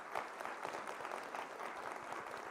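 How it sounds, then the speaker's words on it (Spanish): Audience applause for priests at a church gathering, a dense steady wash of many hands clapping throughout, moderately distant with no talk over it. "Vamos a darle un aplauso a nuestros sacerdotes"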